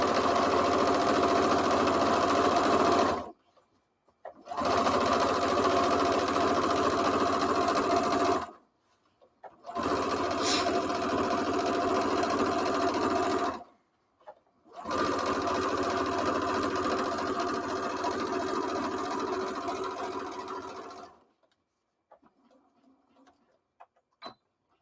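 A sewing machine stitches a tote bag in four steady runs of continuous whirring, each a few seconds long and separated by short pauses, before falling quiet.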